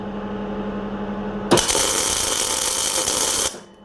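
A Murex welder's wire feed motor runs at setting 4, a steady mechanical whir that starts abruptly after a quieter hum and cuts off after about two seconds, with no talking.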